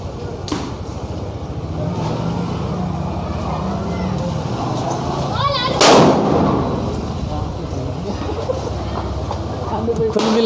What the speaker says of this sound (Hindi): कुल मिला करके आतिशबाजी तो चल रही है साहब।